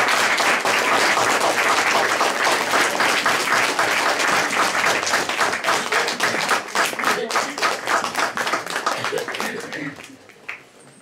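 A congregation at a morning church service, children among them, claps loudly for the mothers in a thick, continuous round of applause with voices mixed in, thinning into scattered claps and fading out near the end.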